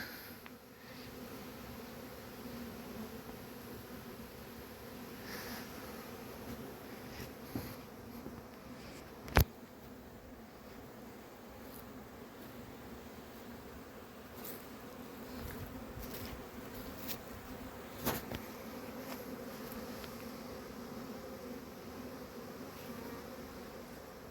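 Honeybees at a hive in early spring, a soft continuous buzzing hum from many insects nearby, with a few faint knocks and clicks over the quiet background.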